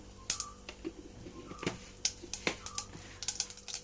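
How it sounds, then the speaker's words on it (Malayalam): Mustard seeds crackling and popping in hot coconut oil, a scatter of sharp, irregular little pops and ticks, fairly faint and close, with no voices. "കടുകൊക്കെ പൊട്ടി വരുന്നുണ്ട്"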